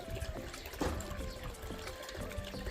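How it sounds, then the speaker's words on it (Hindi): Water running and splashing out of a home washing machine, a steady close gush and trickle with a broadband wash of noise throughout. "देखो देखो हमारी जा रही मशीन, पानी आ रहा है इससे।"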